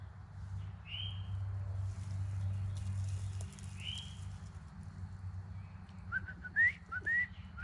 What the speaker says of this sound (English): Sounds big for a little bird.